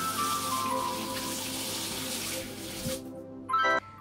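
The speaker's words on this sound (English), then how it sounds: "let's remember to wash our hands" Water runs from a kitchen tap for hand washing before baking, a steady hiss that stops after about three seconds, followed by a brief splash or clatter.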